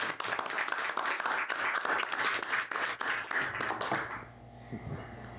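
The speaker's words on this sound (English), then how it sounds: "please join me in a warm welcome round of applause for Deputy Chief Davies" A round of applause at a city council meeting, many hands clapping in a dense burst that tapers off after about four seconds into quiet room tone with a few faint taps.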